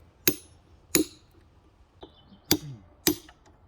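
A hammer strikes a point chisel against marble in a stone carving lesson, five sharp ringing clinks spaced unevenly about half a second to a second apart, close and clear over a quiet background, with one softer tap among them.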